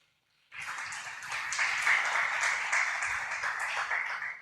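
A church congregation claps together during a Sunday service, dense, steady applause that bursts in after a brief silence and holds at an even, fairly loud level.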